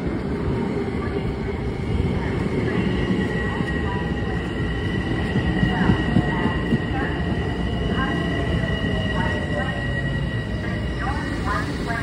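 A Long Island Rail Road train bound for Hicksville runs past on the line toward Manhattan, giving a steady loud rumble with faint wheel squeal and high whine, continuous and close for the whole stretch.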